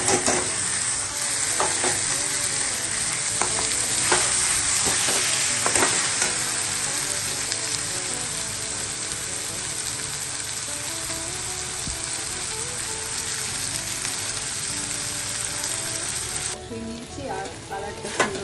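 Garlic with Kashmiri red chili sizzles loudly in hot oil in a pan for a homemade Bengali chicken curry, with a constant close crackle and spatula scraping as it is stirred, easing slightly near the end.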